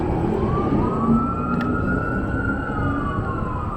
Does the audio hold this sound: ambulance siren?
yes